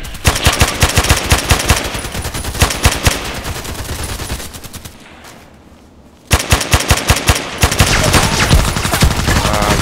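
An AEK-971 assault rifle fires in the Contract Wars video game: loud, rapid automatic bursts that fade briefly for a short quiet gap, then resume as sustained fire.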